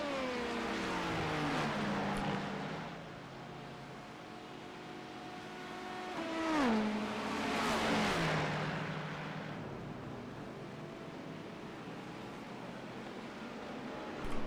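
Race cars in an IMSA racing video game, with GT3 cars and hypercars battling side by side: a continuous engine roar with pitch sweeps from gear changes and passing cars, loud and steady throughout with no voices.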